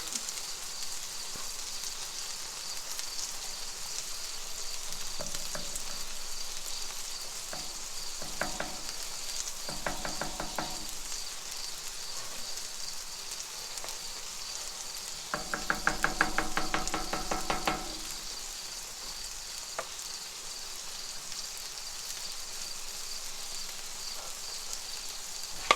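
Sausage sizzling on a Blackstone flat-top griddle, a quiet steady hiss throughout, with a few short scraping and clattering spatula bursts near the middle.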